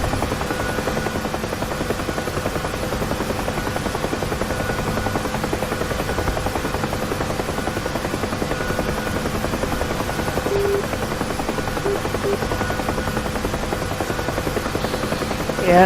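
A UH-1 helicopter in DCS World flies steadily on, its rotor thump and turbine whine holding a constant, loud drone with no talk over it.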